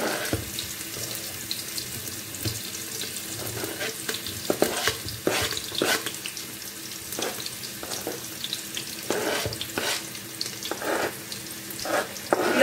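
Garlic, onion and cilantro frying in a pan for Moroccan berkoukes, a steady hiss of sizzling oil with repeated scraping stirs of a utensil, close and continuous.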